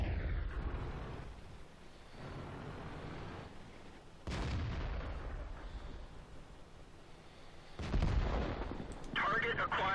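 Tank guns firing in the video game World of Tanks, several heavy booming shots with rumbling decay spread across a noisy battle, with voice talk heard over parts.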